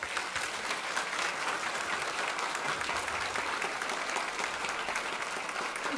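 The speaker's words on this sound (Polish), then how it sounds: "w imieniu swoim i myślę wszystkich zgromadzonych wielkie brawa" Theatre audience applauding at the end of a talk event in Mława, steady continuous clapping from a full hall, fairly distant and soft, with no voices over it.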